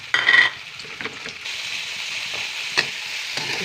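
Ground meat hits a pan of browned garlic and sizzles loudly at first. The frying then settles into a steady crackle, with occasional scrapes of stirring.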